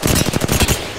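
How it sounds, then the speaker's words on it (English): Loud, close automatic gunfire from a video game, a rapid rhythmic string of about eight shots fired in quick succession, then breaking off. "They're shooting at me."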